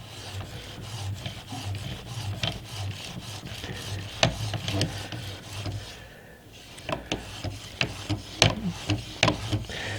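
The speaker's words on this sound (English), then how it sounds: "It's astounding how well or how much a 4000 grit diamond stone bites." A steel blade is drawn across a 4000 grit diamond sharpening stone, making dry, gritty rasping strokes that repeat in an uneven rhythm, close and fairly quiet, with short pauses between passes.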